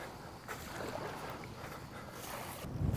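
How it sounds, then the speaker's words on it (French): Steady wind blows across the microphone as a broad, rushing roar on the coast near Saint-Tropez, France, with a stronger gust at the end; no one speaks. "Il y a le vent."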